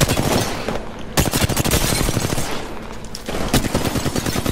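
Rapid bursts of video game gunfire crackle loudly and continuously, with dense automatic volleys broken by a couple of brief pauses.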